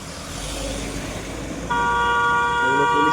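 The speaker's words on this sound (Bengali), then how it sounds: "এগুলো পুলিশের গাড়ি" Police cars roll past in a chief minister's convoy amid a traffic jam in Ghatal, engines droning before a loud, sustained horn blares in and holds steady over the traffic noise, with a voice briefly heard.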